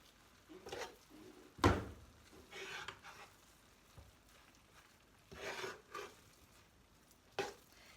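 Stirring a mixture with chopped greens and chili peppers in a pan with a soft sizzle, scraping strokes in irregular bursts, one sharp clatter early on, no voices.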